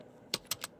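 A computer keyboard is being typed on in Pashto, shift key included: three quick, crisp key clicks close to the mic in under a second against a quiet background, no talking.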